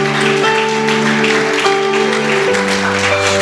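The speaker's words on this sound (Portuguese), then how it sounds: "Você pode aplaudir o Senhor Jesus por isso?" A church congregation applauds during a sermon, a dense, steady wash of clapping sitting beneath sustained keyboard or organ chords that shift pitch a few times.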